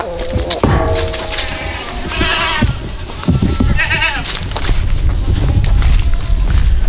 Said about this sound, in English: let's go feed these hungry goats